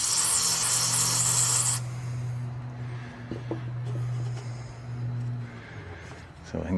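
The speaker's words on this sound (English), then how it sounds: "We'll kind of spray it." Cleaner sprayed into a small outboard boat engine, a loud steady hiss for nearly two seconds over a low hum, then quieter background handling noises.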